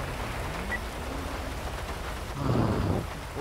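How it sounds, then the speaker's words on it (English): Rain falls steadily outdoors at a police roadside stop, with a low rumble of thunder swelling partway through and no voices. "It's just started raining, mate."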